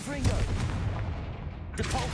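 Confringo blasting-spell explosions from a Harry Potter video game, booming bursts near the start and again near the end under a steady roar of game noise, with voices calling out over it.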